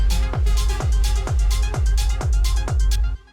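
Layered techno loop with a shaker and an off-beat hi-hat ticking over a pounding kick drum, steady four-on-the-floor rhythm, loud and close, ending abruptly.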